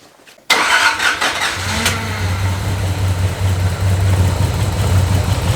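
Turbo-swapped Nissan 300ZX engine cranks and catches abruptly after a moment of quiet, then settles into a steady, close, low idle with a slight misfire.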